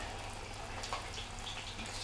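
Whiting fillets in tempura batter frying in hot oil, a steady fizzing sizzle with soft crackles running continuously throughout at moderate level.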